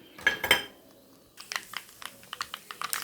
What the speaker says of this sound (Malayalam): ഞാൻ കോരി മാറ്റുവാണ്. എല്ലാം കോരി, ഇത് കടുകും വറ്റൽമുളകും.